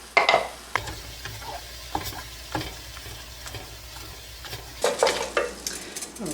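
Half a pound of ground pork, salted and peppered, sizzles steadily in a pan while a utensil scrapes and stirs it in repeated clattering strokes, close by and with no talking.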